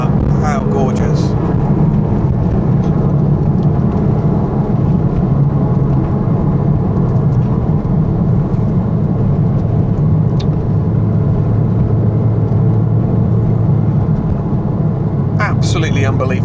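Porsche 987.1 Cayman S driven along tree-lined Cotswold country roads, its engine a steady low rumble heard from inside the cabin with constant road noise throughout, briefly rising as a gear is dropped.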